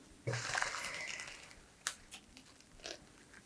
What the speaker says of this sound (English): get underneath the tissue paper so that you can tear it away